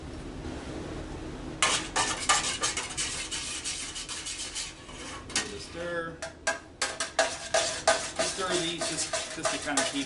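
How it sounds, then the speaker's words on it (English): Soy wax chips melting in a pot are stirred, giving repeated scraping, clinking strokes of a utensil against the metal that start after a quiet moment and continue in an uneven rhythm, close and fairly loud. "Give it a stir."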